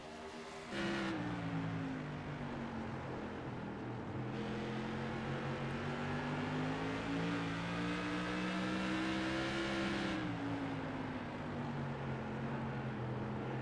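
Race cars battling three-wide for a podium finish on a track at a charity racing event, their engines a loud, continuous drone that swells and shifts pitch slightly throughout, with no voices.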